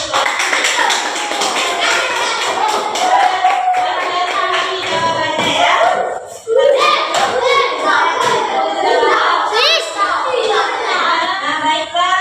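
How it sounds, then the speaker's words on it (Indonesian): Children in a classroom clap their hands in a dense, close, sustained patter, with kids' voices chattering and calling out over the clapping throughout. "Kasih tepuk tangan untuk"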